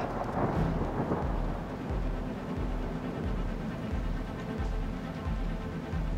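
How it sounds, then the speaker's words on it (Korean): Steady rain pours with repeated low rumbles of thunder rolling underneath, a continuous storm wash at moderate distance with no voices. "이 빗소리."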